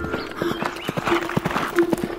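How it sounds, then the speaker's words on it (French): Rapid rhythmic hoofbeats of a horse galloping, steady thudding strikes over a noisy background with a faint whinny-like tone. "Fais le cheval blanc qui galope le soir."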